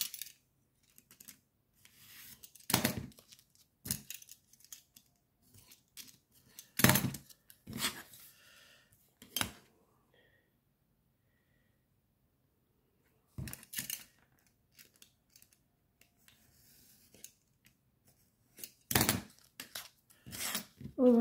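Scissors snip through album material for a ribbon-bound album in several short, crisp bursts separated by quiet gaps, close and isolated with no talking.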